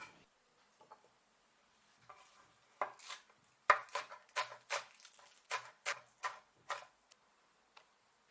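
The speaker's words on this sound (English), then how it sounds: "Cut the tofu first, cut it across, and then cross-cut." A knife cuts tofu on a cutting board in a quick series of about ten crisp, close taps, starting sparse and settling into a steady chopping rhythm before tapering off.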